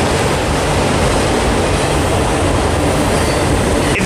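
A freight train hauling autorack cars rumbles steadily past at close range in Barstow, California, a loud continuous roar of wheels and rail noise with no voices.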